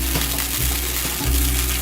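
Stroganoff sizzling in a pan on a stovetop after the heat is turned down, a steady close frying hiss with a couple of soft low knocks from the pan.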